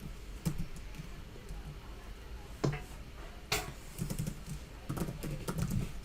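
Soft, scattered keystrokes on a computer keyboard while C++ code is typed, coming in irregular light taps and small bursts against a quiet room background.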